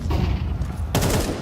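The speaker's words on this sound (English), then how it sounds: "Nice clean headshot." Counter-Strike gunfire during a headshot in a professional esports grand final, with a dense burst of loud shots and a sharp crack near the midpoint, set against constant game noise.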